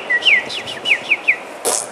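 Someone imitates bird calls by whistling, producing a quick run of short chirping, tweeting notes that ends in a brighter burst.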